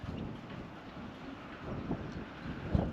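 Gusty wind buffets the microphone with low rumbling surges, a couple of sharper thumps standing out near the end, and no one speaking.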